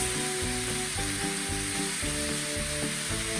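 Crumbled ground beef for tacos frying in a hot pan, a dense continuous sizzle with a steady hiss, close and constant throughout with no talking.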